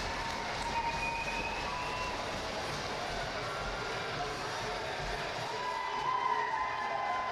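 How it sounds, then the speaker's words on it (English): A hockey crowd at the Stettler Rec Center cheers with a broad, continuous roar of many voices, steady throughout and rising slightly near the end, with rink noise blended in. "As the Stettler crowd cheers on"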